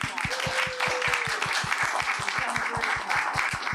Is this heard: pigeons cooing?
no